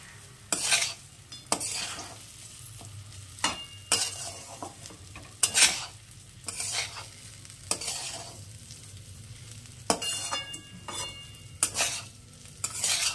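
Raw rice for vegetarian Bengali bhuna khichuri is fried in a pan with a soft, steady sizzle, broken by repeated sharp scrapes of a spoon as the grains are stirred at irregular intervals, close up, with no voices.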